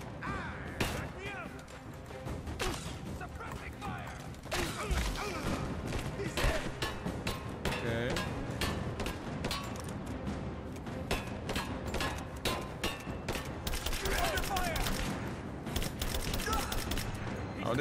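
Rapid, continuous gunfire and explosive impacts fill a firefight in the video game Rise of the Tomb Raider, with a voice talking over the dense shooting throughout.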